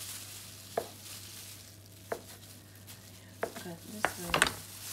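A knife cuts mozzarella cheese into small pieces on a board, giving a few sparse, distinct taps and thuds spaced a second or so apart over a quiet background hum, with a slightly busier cluster near the end.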